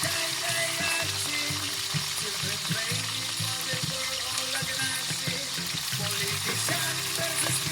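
Small galunggong fish fry in a pan over a wood fire, a steady broadband sizzle with bubbling and some clatter, and faint voices now and then underneath.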